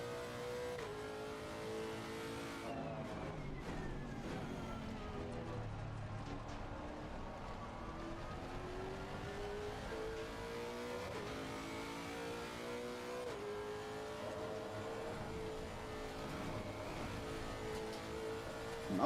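A race car engine in the video game Assetto Corsa Competizione on the Nordschleife screams at high revs throughout, its pitch repeatedly climbing and dropping through gear changes, loud and constant with no talk.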